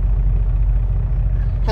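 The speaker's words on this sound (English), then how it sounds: "we're just gonna continue to drive the Kenworth right now" A Kenworth semi truck drives along, its deep engine drone and cab rumble steady and close, filling the interior without pause.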